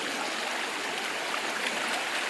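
Flowing water of the North Umpqua River along the trail from Lemolo Lake, a close, steady rushing stream with broad, even noise and no talking.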